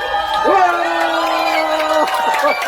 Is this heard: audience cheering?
yes